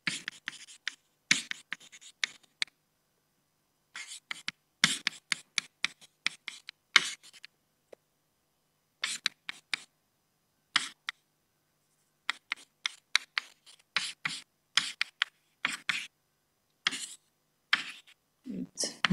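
Handwriting on a board during a mathematics lecture: sharp, scratchy strokes in quick bursts with short pauses between words, close and fairly loud, continuing for the whole stretch.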